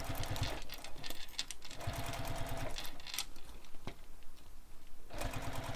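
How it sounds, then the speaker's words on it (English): A sewing machine stitches the side seams of a handbag, running in steady rapid bursts with short pauses between passes, close and fairly quiet. "we're going to sew all these edges using the seam allowance given in the pattern"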